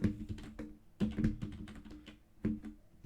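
Keys clatter on a computer keyboard as Python code is typed, soft irregular clusters of taps with a few firmer thunks, close and quiet.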